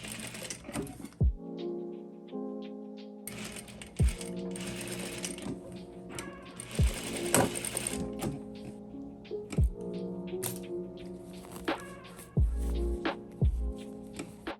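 Sewing machine stitching across the ends of elastic inside a sleeve casing on a ruffled puff-sleeve dress, running in steady bursts with short pauses between them and sharp thunks as the needle starts and stops, close and alone without talk.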